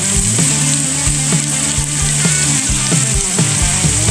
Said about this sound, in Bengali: এবার মশলাটাকে হালকা করে ভেজে নিব